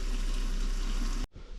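Water rushes steadily into the toilet supply line of a toy hauler camper during winterizing, a loud continuous flow that cuts off abruptly near the end.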